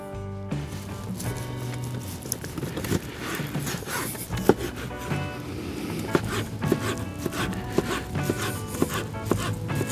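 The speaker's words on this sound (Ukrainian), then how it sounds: "Наріжемо грудинку. спочатку навпіл, щоб було зручніше." A knife cuts through pork brisket on a board, halving it, with repeated irregular thuds and soft slicing knocks close to the microphone, no speech.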